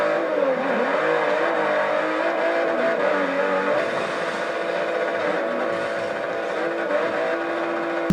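A 1JZ-engined Toyota Supra drift car revs hard while drifting, its engine note wavering and climbing in sustained, fairly loud bursts with no talking.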